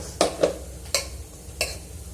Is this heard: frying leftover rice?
yes